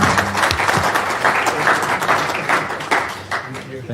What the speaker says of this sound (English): And everybody can applaud if they'd like.